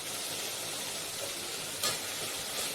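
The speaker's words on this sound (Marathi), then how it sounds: "आता मटकी पण एक ते दीड मिनटं या कांद्यामध्ये चांगली परतवून घ्यायची" Matki sprouts sautéing with onions in a pan: a faint, steady sizzle with one brief scrape of a spoon partway through.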